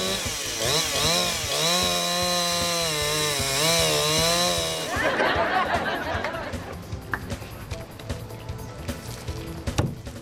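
Chainsaws at a lumberjack show with axes and water: a loud sustained engine whine revs up and down for several seconds, then gives way to rough cutting noise and crowd murmur.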